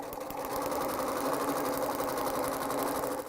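An old household sewing machine runs steadily at close range for the whole stretch, giving off a continuous whirring hum with a fast mechanical needle patter and no pauses.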